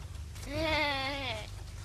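A single drawn-out goat-like bleat, wavering and fairly loud, rises and falls over about a second against a low background hum; no talking.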